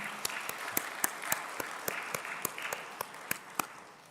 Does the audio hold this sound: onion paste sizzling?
no